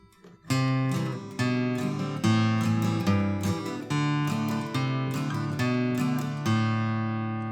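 An acoustic guitar plays a riff, with a bass line stepping down under repeated chord strums. The notes are clear and close, in a steady rhythm with no talking.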